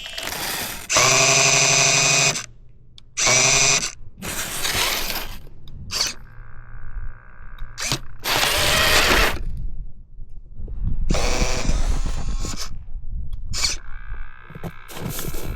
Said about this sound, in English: That servo's not happy. You hear that?